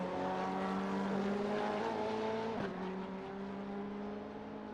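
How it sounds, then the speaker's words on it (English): A Ferrari race car in a racing game drones steadily at high engine revs, and a brief jolt is heard as it clips a curb before the note drops slightly and carries on. "you could hear the Ferrari have issues over that curb, but it only just barely clipped it"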